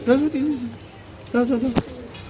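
Pigeons coo close by in two soft, rolling phrases separated by a short pause, with a brief sharp click near the end of the second phrase.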